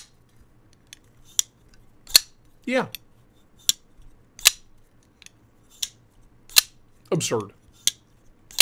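A titanium framelock folding knife snaps open and shut, giving sharp, crisp metallic clicks at irregular intervals with a couple of longer rattling clacks; close and fairly loud, with brief quiet talk in between.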